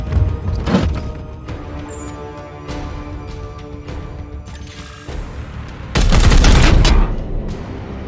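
Gunfire from the Warhammer 40k: Chaos Gate – Daemonhunters video game, with loud repeated shots and bursts over a humming game soundtrack, swelling into a heavy, dense volley near the end.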